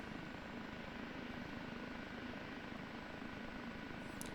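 An OH-58D Kiowa Warrior helicopter lifting off in the DCS combat flight simulator, its steady rotor and turbine drone filling the clip at an even, constant loudness without any voices.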